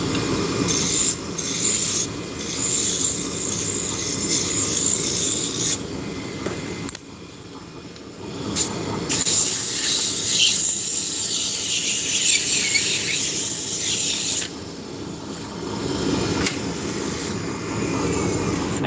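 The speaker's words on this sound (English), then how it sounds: "The relaxing sound of spindle turning" A machine spindle turning gives a steady, continuous whirring drone with a bright hiss on top, running unbroken for the whole stretch and briefly dipping once.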